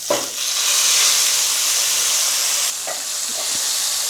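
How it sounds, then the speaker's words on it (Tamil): Onion and tomato paste for chutney fry in a pan over mustard seeds and curry leaves, giving a loud, dense sizzle and hiss that eases slightly partway through, with a few light stirring knocks and no voices. "வெங்காயம் தக்காளி பேஸ்ட்டு சேர்த்து நல்லா வதக்கி விடுங்கம்மா"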